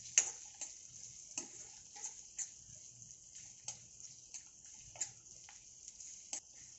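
Tomatoes sauté in a pan for a spicy sprouted moth bean curry. A faint sizzle runs underneath repeated light clinks and scrapes of stirring, all quiet and close.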